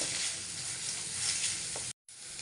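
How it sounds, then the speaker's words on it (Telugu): Ginger, garlic and green chilies fry in a pan with a steady, bright sizzle that stays close and even, drops out for a moment near the end, then comes back, with no talk. "కట్ చేసుకున్న పచ్చిమిర్చి ఒక టూ మినిట్స్ ఫ్రై చేసుకోవాలి"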